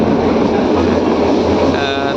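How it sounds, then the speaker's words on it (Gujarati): A slow train rolls through Sasan Gir forest in Gujarat, its steady low rumble heard from on board at close range, with someone talking over it. "ગુજરાતની ભાઈ અમારે આ ધીમી ટ્રેન છે."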